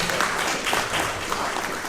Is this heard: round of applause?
yes